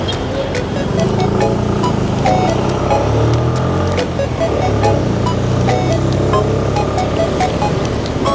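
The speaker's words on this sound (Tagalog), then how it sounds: "Grabe ra ba ka traffic karon." Heavy road traffic drones around a vehicle making its way along a crowded shortcut, a steady, dense rumble of engines at close to middle distance, with a few faint clicks and knocks.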